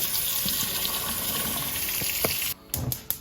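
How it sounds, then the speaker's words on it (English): Water gushes steadily into a pot of goat meat for curry, a continuous splashing pour that cuts off abruptly near the end, followed by a few clinks and drips. "And then add some water."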